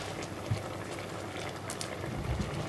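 Veal shoulder simmers and boils in a pan with thyme and rosemary, giving a continuous bubbling patter with small pops, close by and moderately loud, with no talking.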